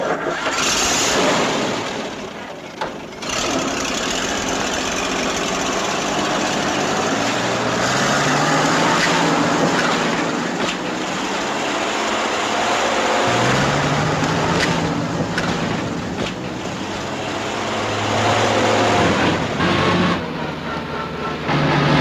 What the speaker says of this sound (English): Keep racing that engine and get us in so deep we'll never get out.